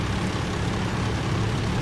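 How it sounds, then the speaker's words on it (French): A steady, droning airplane engine roar fills the clip, continuous and even with no pauses. "J'ai l'impression d'entendre des avions."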